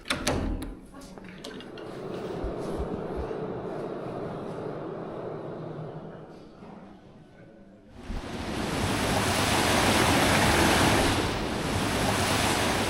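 A river flowing around a cathedral on the wild west coast of Wales, heard as a broad, steady rush of water. Wind buffets the microphone and the rush becomes much louder and fuller partway through.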